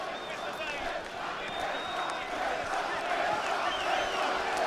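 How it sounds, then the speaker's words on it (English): Danish supporters chant at a Calzaghe versus Kessler boxing match, a steady roar of a large arena crowd with rhythmic voices rising over continuous background noise. "the chants go up from the Danish supporters"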